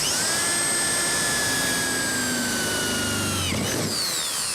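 A power drill whines continuously at high speed while drilling through a car roof for a sunroof, its pitch sagging slightly under load before briefly dropping and recovering near the end.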